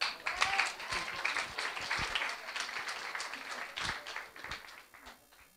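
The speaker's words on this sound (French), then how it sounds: "Tous vos applaudissements" A crowd applauds steadily, many hands clapping together, loud and sustained before gradually thinning out.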